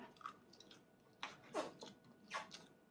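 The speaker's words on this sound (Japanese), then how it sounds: "またもぐもぐもぐもぐ食べて" A young child chews chilled Chinese noodles (hiyashi chuka), with soft wet squishing and biting sounds at close range and a few sharper bursts spread across the quiet stretch.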